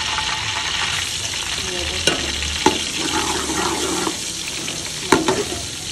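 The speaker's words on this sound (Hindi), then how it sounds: "लहसुन अदरक ऐड कर रहा हूँ। डाल दो।" Garlic and ginger sizzle steadily in a frying pan, a continuous dense frying hiss with a few sharp clinks of utensils, close and fairly loud.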